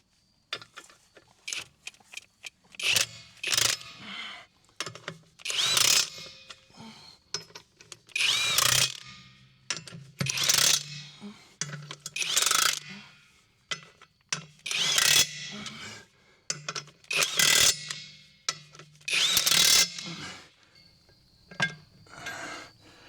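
A 22mm socket wrench turns the wheel bolts on a tractor while widening its wheels, giving repeated bursts of ratcheting and mechanical clicking separated by short pauses, close and fairly loud, with no talking.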